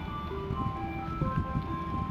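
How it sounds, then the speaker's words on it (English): An ice cream truck in a Garry's Mod hide-and-seek game, its tinkling melody playing steadily over a low rumbling background. "I honestly don't think that's a real ice cream truck."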